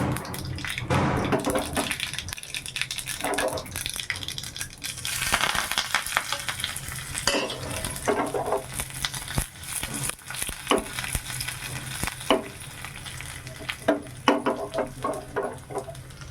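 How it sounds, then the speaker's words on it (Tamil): Ginger, green chili and curry leaves tempering in hot oil for a yogurt dish, a dense continuous crackling sizzle with bursts of popping and spattering, close and loud throughout without speech. "தயிரில் அது போட்டு அப்படியே தாளித்து கொட்டிடலாம்"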